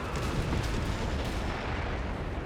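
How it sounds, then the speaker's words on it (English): A large explosion as an ammunition cache goes up during a 2v2 Company of Heroes 3 battle, a dense, sustained roar with rumbling low end and crackling debris, loud and continuous throughout. "There goes the ammo cache."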